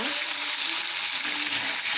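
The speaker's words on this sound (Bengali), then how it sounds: "সামান্য একটু ভেজে দিয়ে দেবো" Paneer frying in a pan for matar paneer gives a close, steady hiss and sizzle with faint scraping underneath, continuous for the whole stretch and without any talking.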